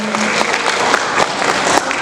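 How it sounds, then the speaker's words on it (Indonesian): Dense, lively applause from an audience at a book launch workshop, with many hands clapping close together in a short burst. "marilah kita berikan apresiasi dan tepuk tangan yang meriah kepada Bapak Muhammad Arfani."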